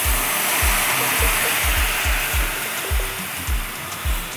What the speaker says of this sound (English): So now I have my sauce ready and I add it in my pot now.